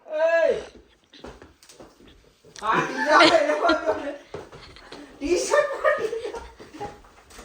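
A dog gives a short high whimper or yelp at the start, followed by close-up talk and chuckling in an outdoor home setting.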